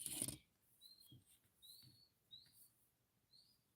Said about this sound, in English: Do you hear the birds outside?